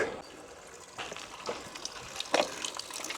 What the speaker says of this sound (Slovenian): Kar tako sem naletel ob cesti na en vodni vir.